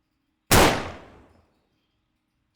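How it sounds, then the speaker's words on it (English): A single loud gunshot rings out sharply and close, then decays into a long reverberant tail lasting nearly a second before silence. "Still that gunshot."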